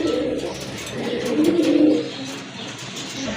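A female pigeon coos close and loud, one sustained rolling phrase swelling in the middle and then easing off, with no voices over it.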